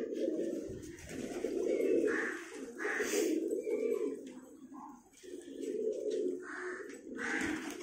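Racing pigeons cooing in a breeding loft, repeated low throaty coos that swell and fade close by, with some faint bird chatter in between.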